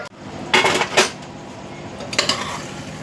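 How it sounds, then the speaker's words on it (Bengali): Mutton curry for a thin mutton broth stirred in a pressure-cooker pot over low heat, a spoon scraping and clattering against the metal in a few short bursts over a steady background hiss. "এবার আঁচটা কমিয়ে এবার একটু কষবো, নয় আবার নিচে লেগে যাবে"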